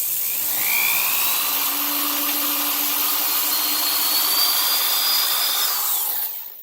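A small high-speed drill whines steadily and close for several seconds while drilling a hole in a slider on a Suzuki Sirius 14 replica, pitch rising slightly under load, then winds down at the end.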